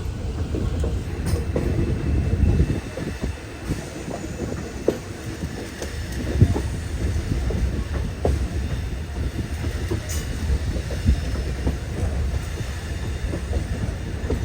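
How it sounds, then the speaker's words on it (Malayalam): A Madurai–Guruvayur Express arrives at Edamon railway station in Kerala, a steady rumble of wheels and carriages with light rhythmic clacks and occasional sharp metallic squeals, heard close from on board. "എടമൺ റെയിൽവേ സ്റ്റേഷനിലേക്ക് ഇതാ നമ്മുടെ ട്രെയിൻ എത്തിക്കൊണ്ടിരിക്കുക"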